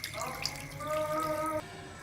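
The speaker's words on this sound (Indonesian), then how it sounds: "kita cuci sampai benar-benar bersih. Jadi digunakan air mengalir ya." Running tap water pours over cut water spinach roots as they are washed clean, a steady splashing flow with a few drips, fairly close, ending abruptly after about a second and a half.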